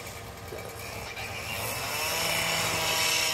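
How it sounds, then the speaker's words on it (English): Steady, rising motor-driven grinding whine of a rail saw cutting through a broken steel railway rail during track repair in Bethlehem, Pennsylvania, continuous and growing louder over a few seconds, with no talk. "There, he's about to go cut that rail, looks like."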